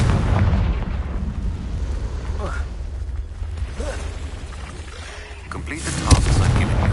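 Confringo fire-explosion spell cast in Hogwarts Legacy, a series of deep booming blasts and rumbles with crackling bursts, the loudest near the end, mixed with game ambience.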